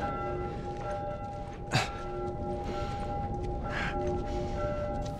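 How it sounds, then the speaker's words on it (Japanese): A bell tolls steadily in the distance in The Last of Us in Salt Lake City, with sustained ringing tones over faint game ambience and a sharp thump partway through. "お、鐘が鳴ってるってことは、あそこだね。"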